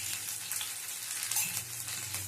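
Crushed ginger, garlic and green chili fry in hot mustard oil, giving a steady close sizzle with faint stirring scrapes.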